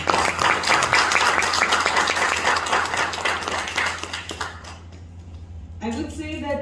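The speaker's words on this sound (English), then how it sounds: "a big round of applause to each one of you" An audience at a lecture on KPI in Munnar claps loudly and densely for about five seconds, then the applause fades out and a voice comes in at the end.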